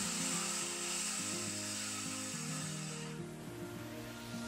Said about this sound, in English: And now I'm cutting this table to its final length